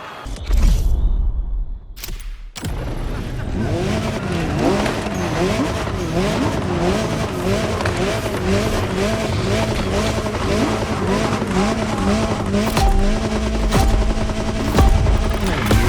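A Jaguar CX-75 concept car drives in a racing video game, its engine revving and wavering in pitch continuously, loud and close, after a short sharp start.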